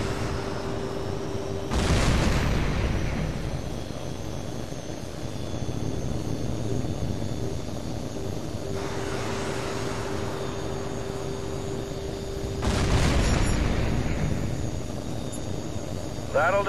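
Jet aircraft and missile explosions in the combat flight game Tom Clancy's H.A.W.X. 2: a continuous jet engine roar is broken by three loud broadband blasts, with a steady whine running underneath.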